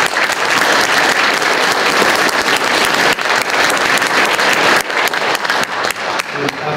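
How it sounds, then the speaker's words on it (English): A large audience at an awards ceremony gives loud, sustained applause, dense clapping that runs without a break for several seconds and thins slightly toward the end. "I'd appreciate if we can get a round of applause for that"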